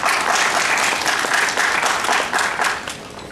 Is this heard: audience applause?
yes